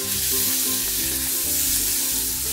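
Onion and tomato with a little salt sizzle loudly in a pan for a potato and pea curry, a dense continuous frying hiss heard close up with no talking.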